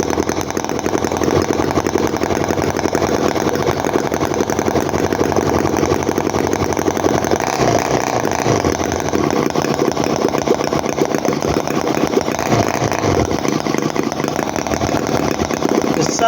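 A 1/5 scale Harley R33 Evolution V-twin 4.2cc hobby model gas engine runs continuously for a long stretch, a loud, buzzy, close idle with slight shifts in pitch and a few brief blips.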